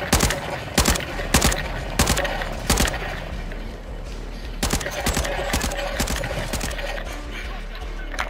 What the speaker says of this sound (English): whoa, somebody's shooting